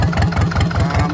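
A Yanmar 2LM two-cylinder diesel engine rated 24 hp at 3000 rpm runs steadily at idle, with a close, even, low thumping pulse and mechanical clatter throughout, no voices.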